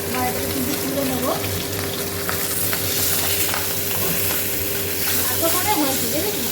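Bay leaves and fish sizzle and fry in hot oil in a wok, a continuous bright crackling hiss with occasional stirring scrapes, close by, while people talk over it.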